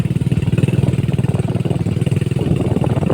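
A motorcycle engine runs steadily and close by on a deep, rough rural road leading toward a beach resort, with a continuous low pulsing rumble throughout and no voices.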